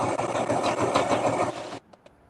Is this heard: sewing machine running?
yes